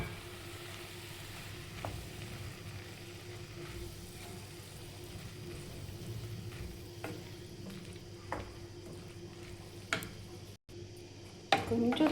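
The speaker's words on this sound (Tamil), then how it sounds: "இப்போ மிக்சியில் அரைச்சி வச்ச அந்த கிரேவி மாதிரி இந்த பேஸ்ட்டை வந்து நம்ம இதில் ஊற்றி ஆட் பண்ணிக்கலாம்" Ground masala gravy paste for a cauliflower curry goes into a hot pan, giving a soft, steady sizzle with stirring scrapes and a few sharper clinks toward the end.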